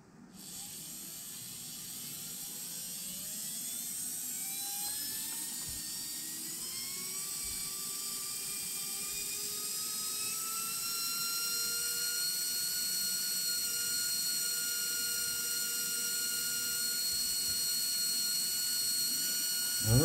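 An RC brushed electric motor spins at about 29,000 RPM, running on roughly the voltage of a fully charged NiMH pack or 2S LiPo. It makes a continuous high-pitched whine with rising tones that settles into a steady close scream for the whole stretch.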